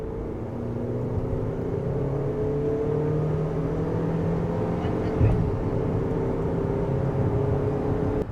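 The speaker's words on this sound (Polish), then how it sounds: "Zapinamy teraz tryb Sport i sprawdzamy takie 80-120, czyli klasyczne wyprzedzanie ciężarówki" A Jetour T2 SUV running on LPG accelerates from 80 to 120 km/h in Sport mode while overtaking a truck, giving a steady, loud engine drone with road and wind noise. A voice talks over it.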